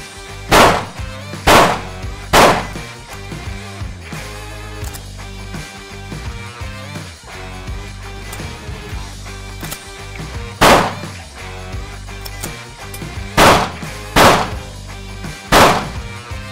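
Pistol shots from a handgun in a timed shooting drill on a range: two quick bursts of three sharp, loud cracks each, near and alone, separated by a long quiet stretch.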